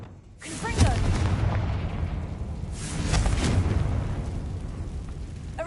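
Confringo spell blasts in the Hogwarts Legacy game: two heavy booming explosions about two seconds apart, each bursting loud and then rumbling away, with a voice speaking in the background.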